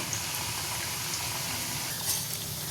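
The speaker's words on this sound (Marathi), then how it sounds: "आता ती व्यवस्थित आपण स्लो गॅसवरच आता ती फ्राय करून घेऊया" Alu vadi, taro leaf rolls, frying gently in oil over a low gas flame: a steady, even sizzle with soft bubbling that continues unbroken from start to finish, with no voices.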